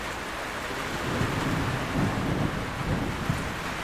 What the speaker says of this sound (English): Can you hear the thunder? Yeah, it's raining quite heavily right now.